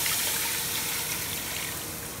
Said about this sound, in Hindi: इसमें ये पानी डालेंगे